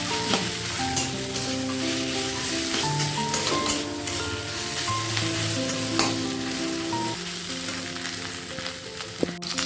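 Potatoes frying in a pan for a potato and pointed gourd vegetable curry, prepared as a Ram Navami offering; steady close sizzling runs throughout with occasional stirring clinks, while background music plays underneath.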